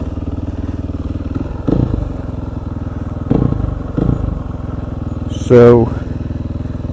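KTM 500 EXC supermoto single-cylinder engine idles steadily with a close, pulsing thump, broken by a few sharp throttle blips and a brief rising rev, while a voice speaks a single word over it on a cold, wet day.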